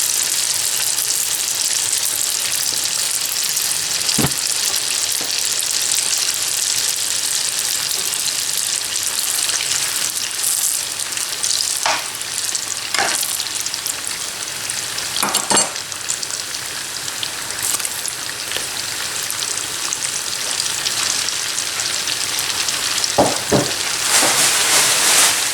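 Date and pistachio briouates frying in hot oil until golden, a dense, continuous sizzling hiss with scattered pops and crackles, steady and close for the whole stretch with no talking.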